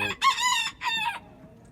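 A rooster crows at close range in two loud, strained bursts, the second shorter than the first, with quiet farmyard background after.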